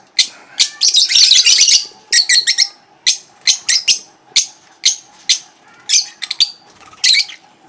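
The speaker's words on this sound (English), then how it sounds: "This is what keeping the lovebird in a flock in a big cage." A flock of lovebirds kept together in a big cage chirps and squawks in loud, rapid bursts, dense at first and then in spaced clusters of sharp calls, close by with no talking.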